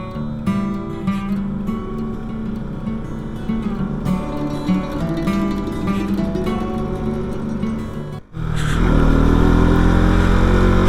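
A heavily loaded motorcycle climbs a steep mountain road from Leh toward Khardung La, its engine droning and straining loudly and continuously with wavering pitch, cutting out briefly before surging back even louder with heavy wind rush.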